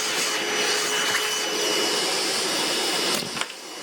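Milwaukee Gen 2 wet/dry vac running close by, a loud steady roaring whoosh of suction as it pulls in plastic, ending with a few brief rattles.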